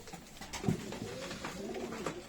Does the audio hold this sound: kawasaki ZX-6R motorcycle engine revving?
no